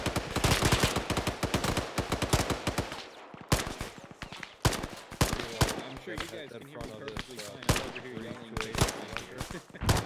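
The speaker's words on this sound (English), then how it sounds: "there's a lot of gunfire going on" Gunfire in the Arma 3 military game: rapid automatic bursts and single shots crack loudly, with a pause and then scattered shots and bursts amid faint game sounds and a voice.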